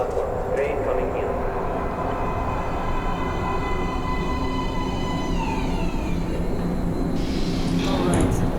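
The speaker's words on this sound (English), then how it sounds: "Please step away from the edge of the platform. Train coming in." In the post-apocalyptic shooter Metro: Last Light, a train rumbles into an underground station, a continuous heavy mechanical roar with rising tonal whines and screeching, steady and close throughout.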